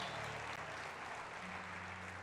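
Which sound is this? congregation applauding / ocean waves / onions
congregation applauding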